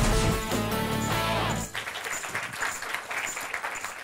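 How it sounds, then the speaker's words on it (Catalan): Music plays loudly at first, then breaks off into a short burst of applause from an audience at a school spelling contest semifinal, clapping rising and falling for a few seconds. "un fort aplaudiment per tots ells"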